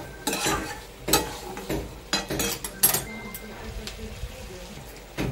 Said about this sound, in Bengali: মশলাটা দিয়ে আমি কষবো ভালো করে।